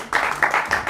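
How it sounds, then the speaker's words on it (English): A small group gives a brief, light round of clapping for a beginner's handstand at a calisthenics class, a few quick uneven claps close by. "give her a little clap"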